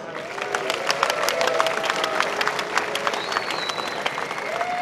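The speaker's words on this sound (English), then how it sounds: "Give yourselves a round of applause for coming here and selling out this conference." Audience applause fills the hall at the Bitcoin 2013 conference kickoff party on the main stage, a dense steady clapping with scattered cheers and whistles running throughout, loud and continuous.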